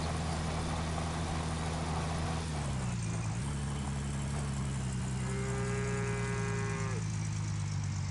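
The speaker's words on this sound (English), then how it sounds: "Cow lowing." A single drawn-out cow low plays over a steady idling engine hum in Gold Mining Simulator, with no voices.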